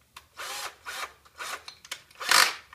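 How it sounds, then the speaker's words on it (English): A power drill bores down into a 2x4 wooden board, sounding in four or five short whirring bursts with brief pauses between them, close and clear, ending on a louder, higher-pitched final burst. "Start your drill before you start going into the workpiece, and then just drill down."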